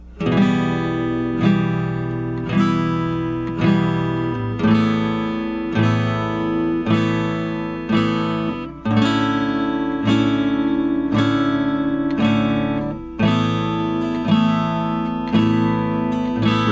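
An acoustic guitar strums chords in an even, repeated rhythm, shifting between a few chord shapes, clear and close with no talking.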